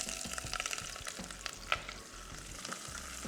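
Onions crackle and sizzle steadily in hot oil, with a few scraping stirs, close and fairly quiet.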